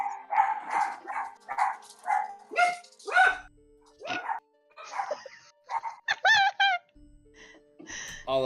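Several dogs bark in a rapid, lively series of close yips and barks that fill the whole stretch.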